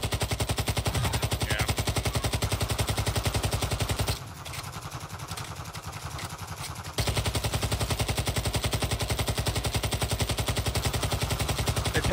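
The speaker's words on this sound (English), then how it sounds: "Let's shoot the heli, Dad." Sustained automatic gunfire aimed at a helicopter in the video game Call of Duty DMZ, rapid rhythmic bursts filling the clip, broken by a roughly three-second pause before the firing resumes just as loud.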